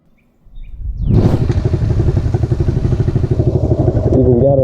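Honda XL212 motorcycle starting up and setting off on a test ride, the engine firing after a quiet moment into a loud, close, throbbing rumble with a rising rev near the end.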